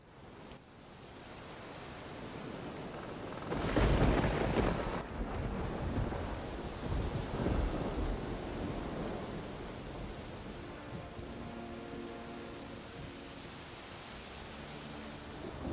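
Thunderstorm in The Witcher 3: a steady wash of heavy rain and wind fills the whole stretch, with a loud rolling thunder crash swelling near the middle and a faint low tonal hum entering toward the end.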